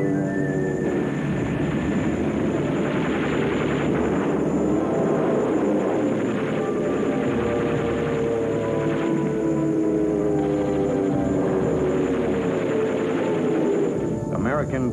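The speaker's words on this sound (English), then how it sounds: "The American B-17 Flying Fortress was used for daytime bombing" An American B-17 Flying Fortress bomber from World War II flies overhead, its propeller engines giving off a loud, steady, layered drone that holds without a break throughout.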